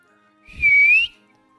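A single short, clear whistled note rises and falls slightly, close and fairly loud against near silence.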